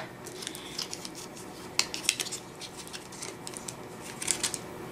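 Quiet, irregular snips and rustling clicks, like scissors cutting through packaging, scattered across a few seconds with no talking.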